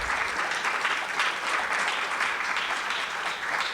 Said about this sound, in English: Please, let's give Rayna a round of applause.